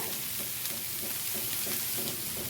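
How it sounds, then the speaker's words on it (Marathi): Chopped red amaranth greens sautéing in a pan, a steady close sizzle with soft scraping stirs recurring through the whole stretch, no voices. "बघा चांगली परतून घेते"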